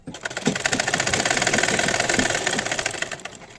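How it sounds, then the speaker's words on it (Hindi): A sewing machine stitches a kurti seam in a fast, even mechanical chatter, close and steady for a few seconds with no talking over it. "इस तरीके से हम सिलाई करेंगे।"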